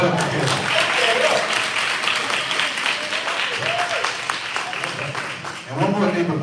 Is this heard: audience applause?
yes